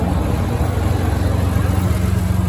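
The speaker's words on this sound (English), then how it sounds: "It got a Roush exhaust. It sounds nice to me." A 2015 Ford F-150 V6 EcoBoost with a Roush exhaust idles with a deep, throbbing exhaust rumble, steady and close, with a faint rise in revs partway through.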